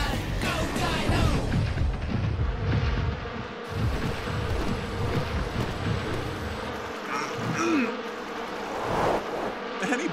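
A cartoon swarm of bees buzzing in a dense, wavering drone with whooshing movement and scattered effects, over background music and faint voices.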